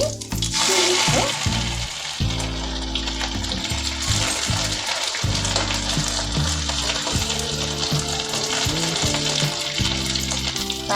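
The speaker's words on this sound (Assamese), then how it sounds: "তাৰপাছত মই এইখিনি ৰচুন আদাৰ পেষ্টখিনি দি দিছোঁ।" Cumin and garlic ginger paste frying in hot oil in a pan, a loud continuous sizzle with bursts of stirring and scraping throughout, close and steady.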